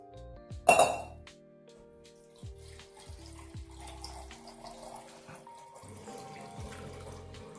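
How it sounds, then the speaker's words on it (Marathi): Water runs from a tap into a bowl while sambar for a fasting-day vada sambar is being prepared, starting with a brief loud splash and clink, then a steady, moderate trickle and gurgle close by with faint kitchen clatter. "जेवढी सारची क्वांटिटी ठेवायची आहे तेवढं पाणी टाकून घ्यायचं आहे"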